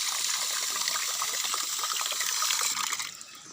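Water pours steadily from a container for pet ducks on a farm, a close, continuous splashing hiss that stops abruptly near the end.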